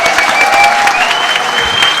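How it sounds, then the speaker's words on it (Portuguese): An audience at a lecture in a club hall claps and cheers in a loud, dense, continuous burst of applause, heard up close with a faint tone running through it. "Eu quero pedir uma salva de palmas para vocês"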